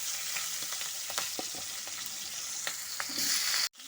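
Thinly sliced potatoes fry in oil with black cumin seeds and slit green chillies, a steady close sizzle with crackles and stirring knocks, ending in a sudden sharp cut.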